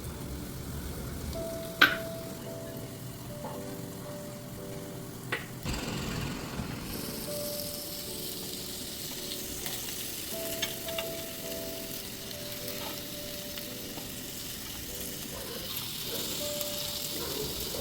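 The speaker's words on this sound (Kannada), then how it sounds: "ಪೈನಾಪಲ್ ಒಂದು ಸೈಡ್ ಇವಾಗ ಚೆನ್ನಾಗಿ ಫ್ರೈ ಆಗಿದೆ, ಕಲರ್ ಕೂಡ ಚೇಂಜ್ ಆಗಿದೆ." Pineapple pieces frying in a pan give a steady, soft sizzle throughout, with a few faint clinks and stirring knocks of utensils against cookware and no voices.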